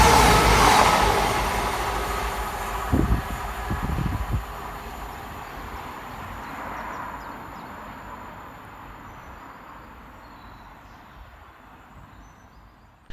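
A Cross Country Class 220 Voyager, unit 220012, races through Barnt Green station: a loud, broadband rush at the start with rhythmic wheel thumps over rail joints, then a long fading roar as the train recedes.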